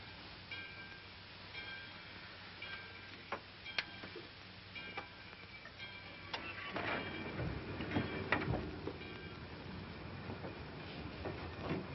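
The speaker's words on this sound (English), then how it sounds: "the train's moving." Old 1941 film soundtrack of a train starting to move, a steady rhythmic ticking clatter of wheels on rails that builds louder and rumbles toward the end, fairly quiet and muffled with no talk.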